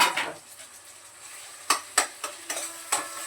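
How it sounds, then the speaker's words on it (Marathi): Masala paste and oil sautéed in a pan for a low-oil pea and paneer curry: a soft sizzle with several sharp scraping knocks of a spoon stirring against the pan, close and with no talking. "वाटण परतलेलं आहे फक्त जरासं सगळं तेल मसाले एकत्र होऊ देते यामध्ये"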